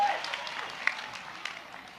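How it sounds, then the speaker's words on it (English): Crowd at a political election rally in KwaZulu-Natal applauds in a steady broadband wash, with a few sharper claps rising out of it and no speech over the top. "I want you to give yourselves a round of applause"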